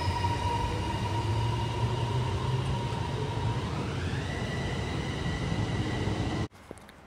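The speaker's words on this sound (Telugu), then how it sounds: "ఇది మెట్రో," A Bangkok metro train rumbles steadily nearby with a rising electric whine as it runs, then the sound cuts off abruptly near the end.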